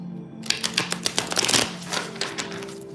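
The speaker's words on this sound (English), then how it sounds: "I know I didn't shuffle this deck, so I'm going to shuffle it" A deck of cards is shuffled briskly, a quick run of crisp riffling snaps up close, ending with a softer settle.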